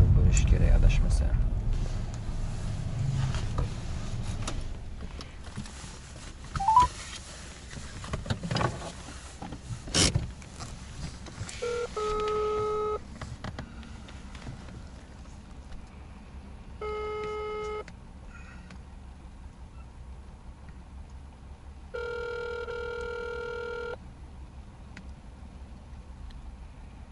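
A telephone call box gives a few short repeated bursts of electronic tones, tone patterns and beeps in sets of pulses, with a person talking nearby and background thumps.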